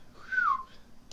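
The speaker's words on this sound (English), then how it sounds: "That whistle probably came out terrible on the mic." A single short whistle from a person close to a microphone, a brief tone sliding up then down, alone in near silence.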